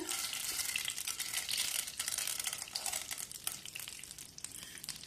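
Mustard seeds, cumin and chana dal tempering in hot oil give a close, continuous crackling sizzle with scattered sharp pops, loudest at first and easing slightly, with no voices.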